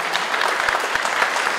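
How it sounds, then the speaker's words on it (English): A graduation ceremony audience claps as a graduate's name is called, steady indoor applause with a few sharp individual claps standing out, brief and moderately loud. "you guys are welcome to clap too"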